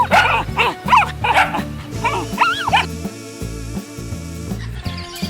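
A puppy barks and yips in a quick run of short, high calls over a steady background music track, loud and close, with no talking.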